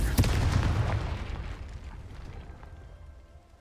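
A Confringo spell blast in the Hogwarts Legacy video game hits as one heavy, booming explosion that rumbles loudly and then slowly fades over a few seconds, with no voice over it.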